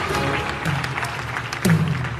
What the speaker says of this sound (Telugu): మీరు వారి చప్పట్లు కొట్టు గట్టిగా దేవునికి స్తోత్రం చేద్దాం